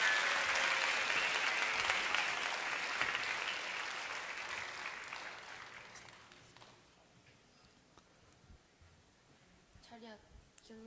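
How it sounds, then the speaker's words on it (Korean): A second round of audience applause for three young brothers about to recite Proverbs in English, a crowd clapping strongly at first and then thinning out and dying away by about six seconds, followed by quiet room noise and a few brief voices. "다시 한번 뜨거운 박수를."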